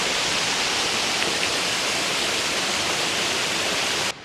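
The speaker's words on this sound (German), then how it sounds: "das Bächlein, was hier jetzt gerade ankommt, das ist der Wasserfall gewesen, den wir gerade gesehen haben" Mountain brook below a waterfall on the Torrente Travignolo in the Dolomites, a constant loud rushing roar of water, close and unbroken until it cuts off at the end.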